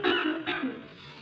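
A woman coughs and clears her throat in two short, close bursts, fairly quiet, with a brief fade afterward.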